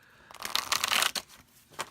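Druid plant and animal oracle cards being overhand shuffled, a quick burst of papery flicking and riffling that swells, fades, then returns briefly at the end, close and alone.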